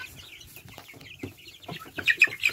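A young rooster chick clucks in a series of soft, close chirpy clucks that grow louder and more rapid toward the end, heard alone without talk.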